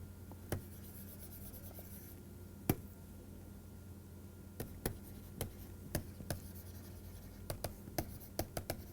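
Chalk or a marker tapping and scratching on a board while an equation is written during a physics lecture, heard as sparse sharp ticks over a quiet room hum.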